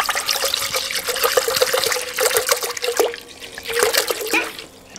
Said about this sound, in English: next, we pour the whole gallon of milk